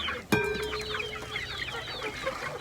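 Domestic hens and chicks clucking and cheeping in a farmyard, a sharp clear squawk near the start followed by a busy overlapping chorus of small chirps and clucks over a low background hum.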